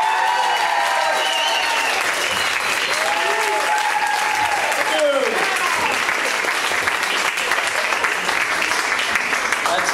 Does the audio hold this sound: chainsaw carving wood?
no